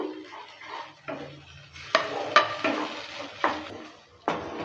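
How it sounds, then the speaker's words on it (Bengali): Pointed gourd mash with ground chilli is stirred in a frying pan. A spatula scrapes and clinks against the pan in irregular, close strokes over a faint sizzle. "দেওয়ার পরে আবারও ভালো করে নেড়েচেড়ে নিচ্ছে"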